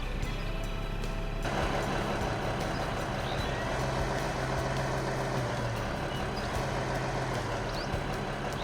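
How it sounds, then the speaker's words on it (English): A truck in the game Truck World Australia starting up, with a sudden jump to a steady rumbling diesel engine idle that continues at a constant level, faint clicks and beeps over the top. "we'll start the truck up"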